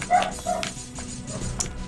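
A dog named Paige barks in short, sharp yips and woofs, a few bursts over about two seconds, fairly close and under faint background noise.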